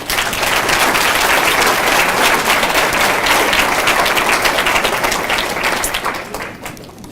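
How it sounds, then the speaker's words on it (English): Enthusiastic applause from parents and guests at a youth bowling banquet fills the room, loud and dense for several seconds before thinning out and fading near the end. "let's give them a nice round of applause"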